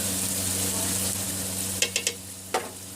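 Whole garam masala hits hot oil for an aloo gosht, producing a steady close sizzle with a few sharp crackling pops near the end.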